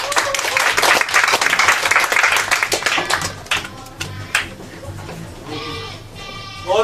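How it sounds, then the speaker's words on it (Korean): Audience applause at a Korean policy-forum stage event, a dense burst of many hands clapping that thins out midway, with voices and stage sounds mixed in toward the end. "박수 주세요."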